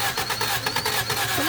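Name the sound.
1978 Honda Civic engine cranking, trying to start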